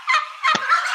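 Turkeys in a podcast studio let out a loud, close gobble, a warbling rattle in two short bursts within about a second.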